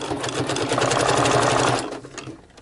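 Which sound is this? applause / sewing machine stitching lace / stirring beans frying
sewing machine stitching lace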